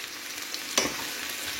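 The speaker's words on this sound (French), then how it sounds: "Maintenant, je fais revenir des oignons et après, je vais ajouter un peu de champignons." Onions sauté in a pan for a smoked salmon pizza topping, giving a dense bright sizzle broken by one brief louder stirring scrape. The sound is close and quiet, with no one speaking.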